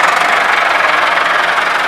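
A Millat 375 tractor engine runs close and loud, a steady, rough knocking drone that holds evenly without pause, with no voices.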